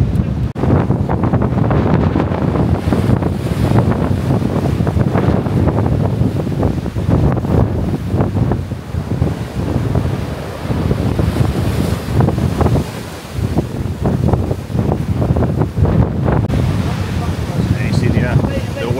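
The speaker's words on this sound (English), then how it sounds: "Waves crashing along" Storm surf crashes and roars continuously against a sea defence on the Blackpool seafront, loud and close, with heavy wind buffeting the microphone throughout.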